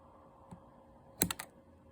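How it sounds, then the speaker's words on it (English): Small hand trimmers snip wires during a Cobra 29 CB radio upgrade, one faint click followed by a sharp cluster of close, crisp cuts. "I'm going to trim them down a little bit so they're not too long with my little trimmers"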